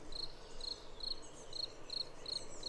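Crickets chirp in a sunny garden, with about seven evenly spaced, faint chirps sounding alone over quiet background hiss.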